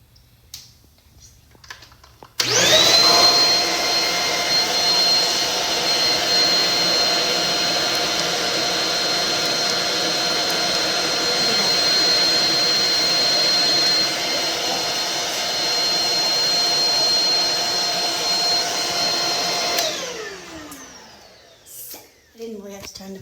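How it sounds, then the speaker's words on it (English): A Bahuun cordless vacuum cleaner with a dust illumination light starts up on the floor and runs steadily with a loud, even whine for about seventeen seconds, then cuts off. "I didn't really have to turn the vacuum on"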